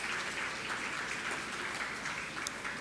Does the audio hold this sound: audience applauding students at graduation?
yes